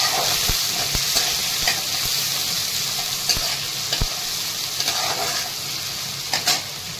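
Green chilli, ginger, tomato, curry leaves and onion fry in a pan for a spicy Kolhapuri-style farsan bhaji, giving a steady close sizzle broken by repeated scraping stir strokes.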